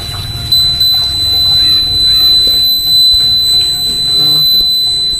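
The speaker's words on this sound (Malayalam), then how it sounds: "നിങ്ങൾ വെള്ളം ഒഴിക്കുമ്പം നിങ്ങൾക്ക് ബസർ അടിക്കണ കാണാം." A homemade water tank alarm buzzer sounds as water is poured, a steady high electronic tone holding throughout at moderate level over faint background noise.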